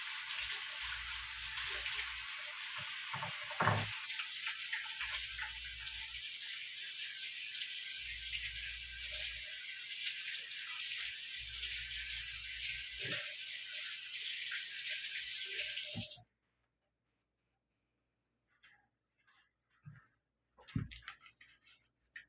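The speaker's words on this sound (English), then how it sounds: "First, I'm going to go wash my hands." Running tap water pours steadily into a sink while hands are washed beneath it, a broad close hiss lasting about sixteen seconds before cutting off, followed by a few faint knocks and movements.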